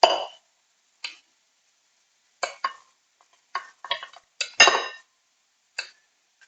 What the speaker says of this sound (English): Just break up the couscous now.